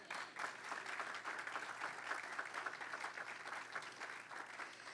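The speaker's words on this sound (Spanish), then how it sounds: "Denle un aplauso a Dios." A church congregation claps together in sustained applause, a dense, steady wash of hand claps heard from a moderate distance, with no talking over it.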